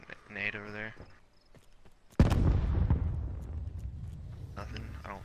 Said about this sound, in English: Throwing nade over there.